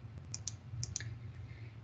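Fast clicks of typing on a computer keyboard, a few quick, light keystrokes in short bursts, close and fairly faint over a low steady hum.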